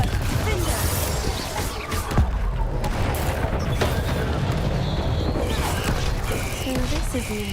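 Rapid spell blasts and booming impacts during combat in the video game Hogwarts Legacy, dense and continuous over steady game background noise.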